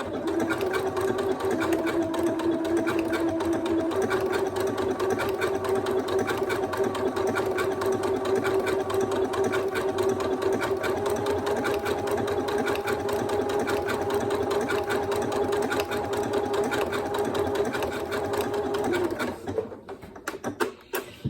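A sewing machine stitches a cushion in a circle, its motor running in one steady, close whir for almost the whole stretch before stopping just at the end.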